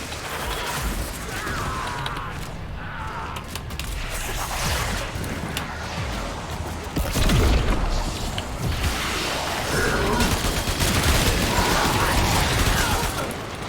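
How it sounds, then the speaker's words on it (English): An extractor deploys in the video game Warframe, a dense stretch of creaking mechanical clanks and muffled booms over a busy ambient bed, swelling louder partway through, with no voices. "Extractor deploying."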